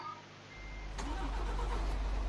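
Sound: truck engine starting in video game Euro Truck Simulator 2

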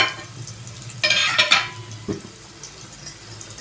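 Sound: onion pieces sizzling in tempering oil

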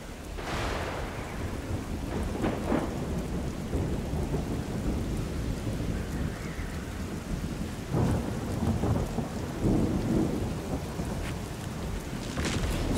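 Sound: thunder in the video game Strayed Lights

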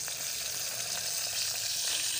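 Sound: fish frying in pan

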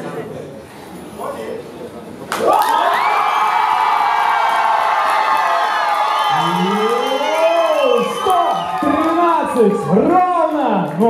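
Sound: crowd cheering and shouting

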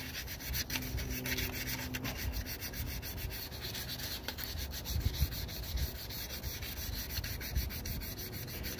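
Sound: sanding valve cover gasket surface with P500 sandpaper

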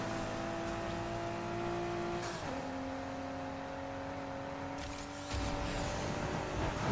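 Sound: turbocharged car engine in Need for Speed Heat video game

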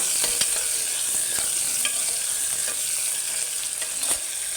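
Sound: onion and tomato frying in a pan for methi pulao

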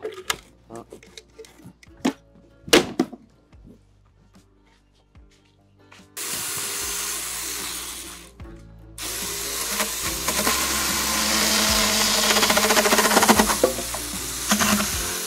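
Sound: sawing wood posts

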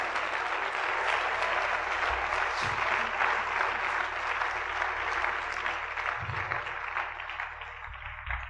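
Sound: congregation applauding in church

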